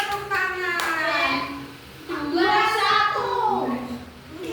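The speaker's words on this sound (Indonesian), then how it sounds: "Tepuk tangan." Children clapping their hands in a Quran and Hadith lesson, bursts of clapping mixed with kids' voices and an adult speaking over them.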